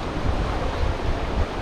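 A river rushes in flood beneath a bridge during rain, a loud churning roar with gusty rumbles, heard close and without talk.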